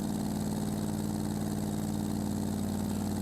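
A steady car engine drones in the BeamNG driving game at low RPM, a loud continuous low hum with regular pulsing, no variation in pitch.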